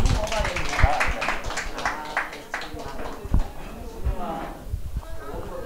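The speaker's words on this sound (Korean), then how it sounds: "박수 부탁드립니다" Audience at a small Korean book-talk gathering claps for a presentation, a brisk patter of hand claps with a few sharp louder slaps, voices talking over it.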